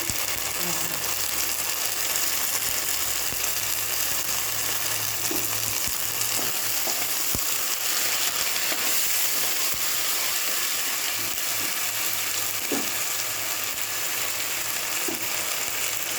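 Garlic frying in a pan in a home kitchen gives a continuous, even sizzle that holds steady throughout, with a few faint clinks and stirring taps and no talking.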